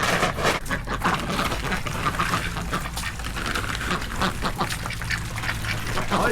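Several ducks quack loudly and repeatedly close by, overlapping calls in quick uneven bursts with a busy backyard background.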